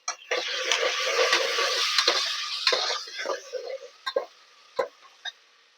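Vegetables with beetroot and tomato are sautéed in a pan for a Navaratri prasadam, giving a steady sizzle with stirring, then trailing off into a few separate scrapes and clinks.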